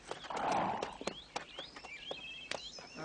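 Horses clop and shuffle nearby, with a snort or whinny early on, their hooves landing in uneven steps amid faint background noise.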